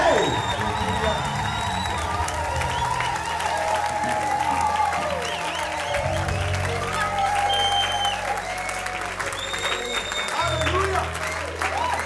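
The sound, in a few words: congregation applauding for Jesus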